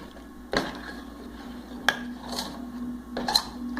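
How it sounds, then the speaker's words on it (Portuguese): A utensil scrapes and clinks against a pot while dark chocolate is stirred until it melts, with three distinct knocks spread over a few seconds and a soft low hum in between. "Aí você vai mexendo até ele derreter tudo."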